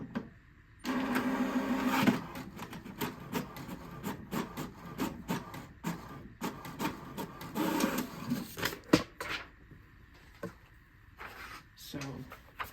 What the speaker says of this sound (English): it will print the informations about this printer